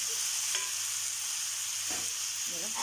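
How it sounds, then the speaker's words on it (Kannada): Chopped onion, green chili and tomatoes frying in a pan under a steady hiss, with a few soft scrapes of a spoon stirring through the mixture, close and moderately loud. "ಇವಾಗ ಇದನ್ನು ಚೆನ್ನಾಗಿ ಟೊಮೆಟೊ ಎಲ್ಲ ಸ್ಮ್ಯಾಶ್ ಆಗೋ ಥರ ಇದನ್ನು ಫ್ರೈ ಮಾಡಬೇಕು"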